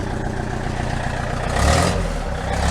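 A Mercedes diesel bus engine runs at a steady idle, a loud, close, continuous rumble that swells briefly as it picks up revs before settling again.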